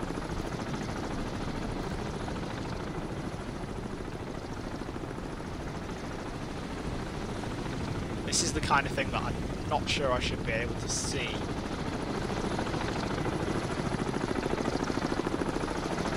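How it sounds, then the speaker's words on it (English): A helicopter in the submarine game Cold Waters drones as a constant low rumble with a faint rhythmic chop throughout, while someone talks over it and a few brief higher electronic tones cut in near the middle. "That sounds like a helicopter."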